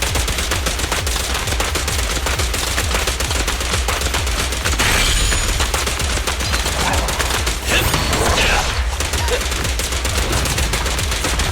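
Rapid continuous gunfire from the Zenless Zone Zero video game, dense bursts of shots rattling loudly throughout with brief flares of impact noise.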